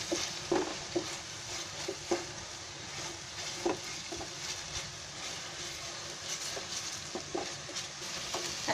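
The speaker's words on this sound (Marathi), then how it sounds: "आता गॅस फास्ट केलाय मी, कारण हे आता चांगलं परतायचं आहे कांदा." Onions frying in ghee over a high gas flame, a continuous crackling sizzle with repeated soft stirring scrapes and taps against the pan, close and fairly quiet.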